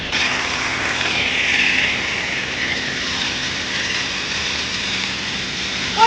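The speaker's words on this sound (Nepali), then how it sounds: "कस्तो आवाज आएको उड्न लागेको प्लेन" Airplane engines roaring steadily as the plane prepares to take off, a loud continuous rushing drone with a high whine that holds evenly for several seconds from close by.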